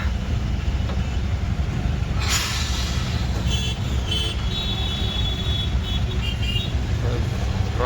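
Road traffic near a bus stand and fruit market along a highway out of Ambajogai, a loud continuous engine rumble with passing vehicles, brief hissing and a few horn-like tones.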